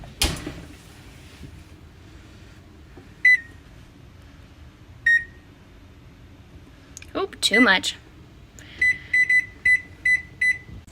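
Electronic kitchen timer beeps ring out while spaghetti squash is being cooked: a few single beeps, then a quick run of evenly spaced beeps near the end, with brief speech and kitchen clatter between them.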